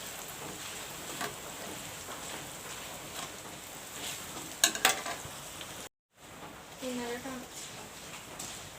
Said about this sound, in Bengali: এখন আমি ভেজে নিব চিড়া।